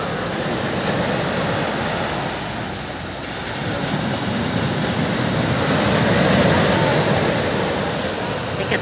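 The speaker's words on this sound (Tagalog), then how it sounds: "Lakas ng alon." Strong ocean surf at a beach in Real, Quezon Province roars continuously, swelling and easing as waves break, with a broad rushing wash of water and some wind.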